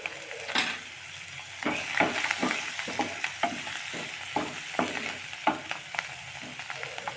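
Oil sizzling steadily in a pan as turmeric is fried for an aloo paratha filling, with a series of close spatula scrapes and stirring knocks over the constant hiss; no voices.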